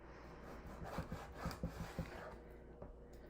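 Knife slicing raw beef into inch-thick strips for a ginger beef and mushroom bowl, a quiet run of soft, closely spaced cutting strokes on a board.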